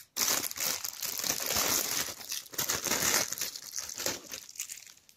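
Diorama kit package being opened by hand, with continuous close crinkling and crumpling of plastic wrapping in quick, irregular bursts, loud and near with no talk.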